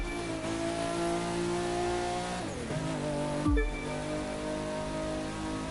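A car in The Crew 2 accelerates hard on nitro boost, its loud engine droning steadily with a rising whine, then dropping sharply in pitch near the end with a brief tire squeal.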